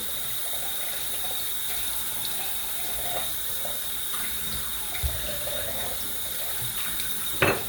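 Hot water runs steadily from a tap while hair is rinsed, a continuous hiss with faint splashes and a soft knock near the end, at moderate distance with no talking.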